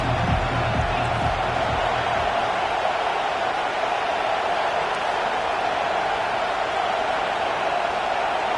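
A stadium crowd roars in the video game College Football 25, a broad, steady wash of cheering that holds at an even level, with a few low thumps at the start.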